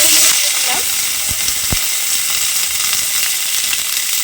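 Cubed onions frying in hot ghee give a loud, dense, continuous sizzle with a couple of sharp spoon taps near the start, close and unbroken, with no speech.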